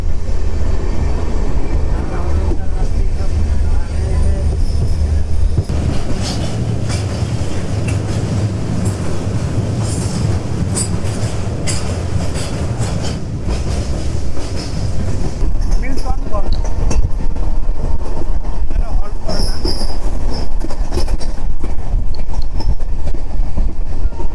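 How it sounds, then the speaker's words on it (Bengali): Vistadome tourist special train on the Dooars run from NJP toward Alipurduar slows on the approach to Rajabhatkhawa station. It gives a loud continuous rumble with clickety-clack, rattling and brief squeals, and a voice speaks faintly over it. "ঢোকার ঠিক আগ মুহূর্তে ট্রেনটা একটু স্লো করে দিল।"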